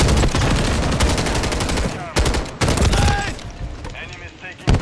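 Rapid automatic gunfire in Call of Duty Modern Warfare 3 multiplayer, loud dense bursts with brief gaps, under in-game voices.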